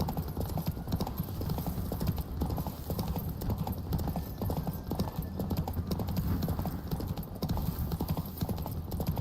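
Rapid, steady hoofbeats of a horse galloping flat out in a race in a Witcher video game, a continuous close clip-clop running the whole stretch with faint talk underneath.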